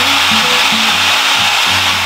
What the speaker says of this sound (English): This hair dryer is pretty quiet at roughly 59 decibels